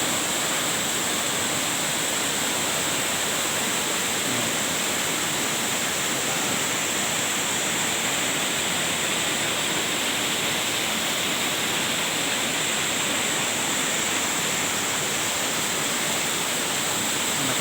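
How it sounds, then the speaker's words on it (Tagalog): Three rivers on Dinagat Island send up a steady, broadband rush of flowing water, an unbroken roar that stays loud and even throughout with no voices. "Ang tatlong ilog na to."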